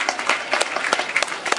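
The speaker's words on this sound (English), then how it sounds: "Give a big clap" Audience applause at a school function honoring the principal, a dense burst of many hands clapping steadily and fairly close throughout.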